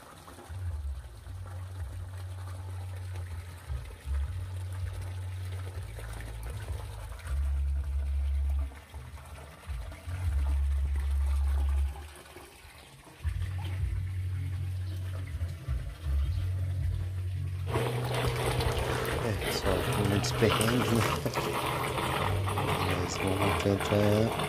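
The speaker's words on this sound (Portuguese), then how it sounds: "Tentando encher o filtro pra ver o que é, né? A vazão." An Oceantech 12000 l/h pump drives water into an aquarium sump filter, giving a continuous rushing, gurgling flow over a low pulsing hum, which grows brighter and louder in the last seconds.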